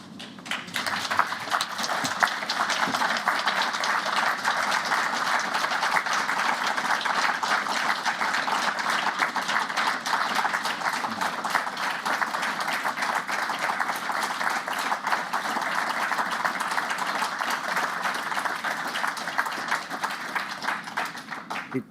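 Sustained applause from a large audience after closing remarks at a public inquiry into infected blood, a dense steady clatter of clapping lasting over twenty seconds without letup.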